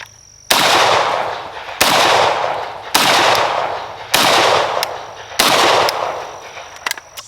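Five unsuppressed 7.62x39 rifle shots ring out one at a time, each a loud, sharp crack followed by a long echoing tail. They come at a steady pace of roughly one every 1.2 seconds, with no talking.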